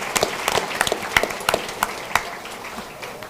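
An audience at an evening meeting gives a round of applause for general manager Jim Fraser, a fairly thin spread of claps with a few sharp individual hits that tails off toward the end.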